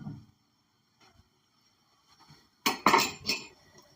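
A can of peas being opened in a home kitchen: after a few faint taps and scrapes, a sudden run of sharp metallic clicks and clanks comes up close and fairly loud, then fades.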